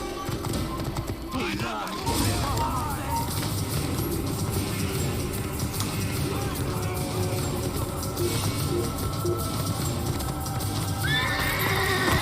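A horse in an Assassin's Creed game neighs in sharp whinnies, with clip-clopping hooves and other game sounds around it, moderately loud and close as someone talks over it.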